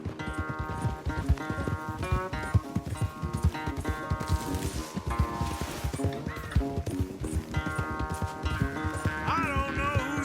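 A horse gallops in a race, its rapid, rhythmic hoofbeats pounding steadily throughout beneath loud music with a driving beat.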